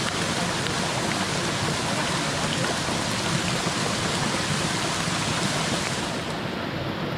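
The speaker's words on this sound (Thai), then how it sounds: "ฝนตกหนักมาก" Heavy rain pours in the mountains as a dense, loud, continuous hiss of downpour, steady throughout with no gaps and no voices.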